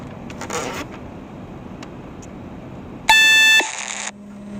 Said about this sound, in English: that's a notification from Postmates. I don't know what it is. It does this loud beep.